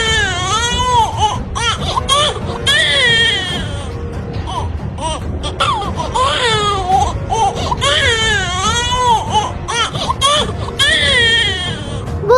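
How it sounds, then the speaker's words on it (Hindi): An infant cries loudly and continuously in repeated wailing bursts with short gasping pauses, close and unbroken, with no other voices. "ये बच्चे के रोने की आवाज है।"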